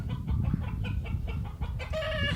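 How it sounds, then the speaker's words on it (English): An Orpington rooster clucks close by in a short series of throaty, rhythmic calls, ending in a slightly higher, more drawn-out note. "let's see what this rooster will do."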